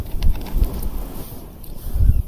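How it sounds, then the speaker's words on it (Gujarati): Strong wind at about 30 to 40 km/h on a farm gusts against the microphone in low, rumbling bursts that rise and fall over a few seconds. "પવન ત્રીસ ચાલીસની ઝડપે આવે છે"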